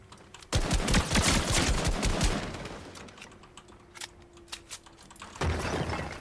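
Rapid bursts of automatic gunfire in the video game Fortnite crackle in quick succession, then thin out into scattered single shots before another burst near the end.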